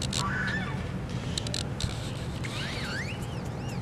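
Crows caw a few times at middle distance, their harsh calls rising and falling over steady outdoor background noise.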